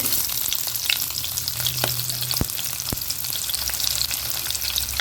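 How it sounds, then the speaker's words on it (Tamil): Cinnamon and onion hit hot oil with a loud, dense, continuous sizzle, broken by a few sharp crackles and knocks from the pan. "எண்ணெய் காஞ்சிச்சு. பட்டை இதெல்லாம் போட்டுடலாங்க. வெங்காயம் போட்டுடலாம்."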